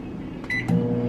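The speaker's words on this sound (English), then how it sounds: "we microwave for 90 seconds" Microwave oven running with a cake batter inside, a steady low hum with a brief rise in intensity partway through, close and fairly loud, no talk.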